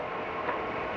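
A train runs on rails, a faint low rumble with a soft rhythmic clatter and a brief thump near the end, heard in an old 1935 film soundtrack.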